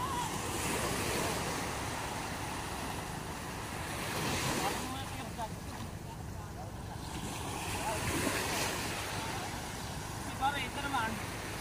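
Ocean waves wash along a seashore, swelling and receding in broad rushes with gusty wind buffeting the microphone, while someone talks over the surf.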